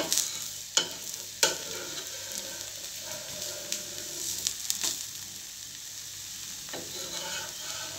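Jowar (sorghum) dosa crisping on a hot pan, a steady sizzle and frying crackle throughout, with a few sharp clicks of a spatula or stirring near the start and again later, no voices.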